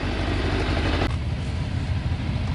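A Kawasaki ZZR 400 motorcycle's 400 cc engine runs steadily after a clutch swap, giving a continuous rough mechanical drone with no speech.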